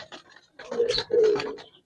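Giribaz and colored pigeons in a loft in Sonargaon, Narayanganj, give close, soft throaty coos in two short phrases with a brief pause between them.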